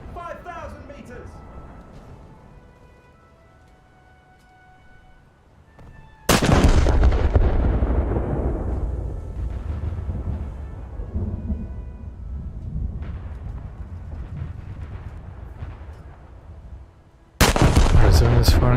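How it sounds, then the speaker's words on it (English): Naval gunfire from the battleship Arizona in a warship video game, with two huge, sudden booming salvos that each roll away into long rumbling echoes, loud and close, with no talk. "Arizona is firing upon me"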